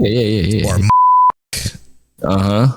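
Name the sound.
censor beep covering a word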